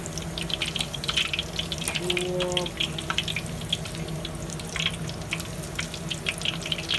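Pork belly frying in hot oil after being flipped, a continuous bubbling sizzle with watery crackle heard up close, with a faint voice briefly in the background.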